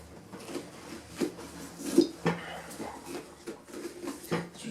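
A pumpkin's insides are scraped out during Halloween carving, with a run of soft, uneven rubbing scrapes and a few sharper knocks close by, all fairly quiet.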